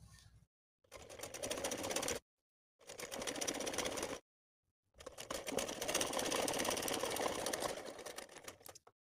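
A sewing machine stitches a suit neckline in three close bursts of fast, even running, the last one the longest, with brief silences between them.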